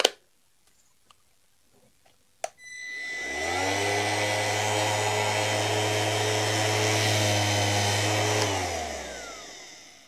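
A P.I.T. PDS20H-125A cordless random orbital sander is switched on after a few small clicks and a sharp knock, then runs with a steady whirring hum and high tonal whine for about six seconds before spinning down.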